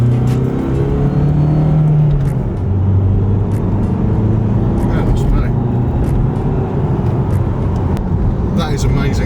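A van, tuned by Pendle Performance, accelerates with a steady engine drone and rising pull, recorded close from inside or beside the vehicle, with people talking over it throughout.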